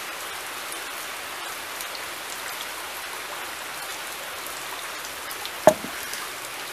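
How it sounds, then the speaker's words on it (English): Steady rain falls ahead of a hurricane, a continuous even hiss with no voices, broken only by one sharp close knock near the end. "Here comes the rain again."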